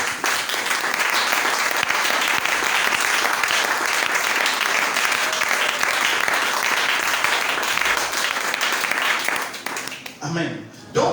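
A church congregation applauds in praise, a long, loud wall of clapping that holds steady for about ten seconds, then thins out abruptly near the end.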